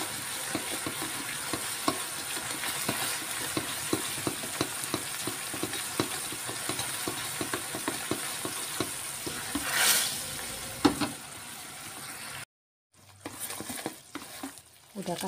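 Sugar caramelizing in a pan for kue getas, a steady close sizzle with scraping stirs throughout, a brief louder flare near the end, then a sudden cut to near silence before the crackle resumes faintly.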